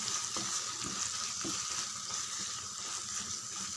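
Tomato thokku frying in a pan while it is stirred, a dense, even sizzle running throughout with a few soft spoon strokes, close and fairly quiet, without any voices.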